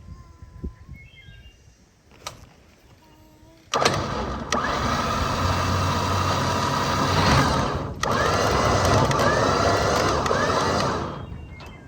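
A Chevrolet Camaro engine cranks and catches after a few faint knocks, then runs as a loud steady idle for several seconds with a brief hitch midway, before fading slightly at the end.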